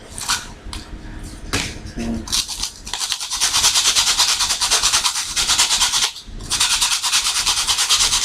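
Close scraping and rustling as a sandpaper sander disc is handled and folded in half, with coarse gritty rubbing that grows louder and more continuous, briefly pausing before resuming.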